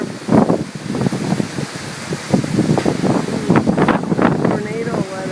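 Strong wind gusts roar and buffet during a massive dust storm in Arizona, with rustling and flapping debris, loud and continuous with surging bursts, while a person talks over it.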